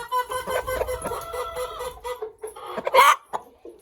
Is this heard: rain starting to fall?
no